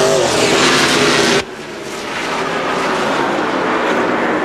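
A NASCAR stock car at the 2002 UAW GM Quality 500 roars loud and close at full rev during a green-flag pit stop, then cuts off sharply and pulls away, its engine note settling into a steady, slightly distant drone.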